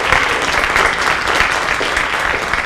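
A loud, sustained round of audience applause for Sister Cora Rankins at an MLK oratorical contest, many hands clapping steadily and evenly throughout with no talking.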